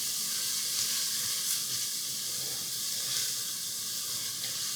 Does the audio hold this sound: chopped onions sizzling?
yes